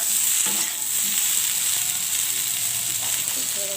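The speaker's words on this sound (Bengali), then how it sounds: "এই তো পেঁয়াজ আলু আর বেগুনটা ভালোভাবে ভাজা হয়ে গেছে" Large-cut onion, potato and eggplant fry in oil, giving a constant loud sizzle with occasional scraping knocks as the pieces are stirred.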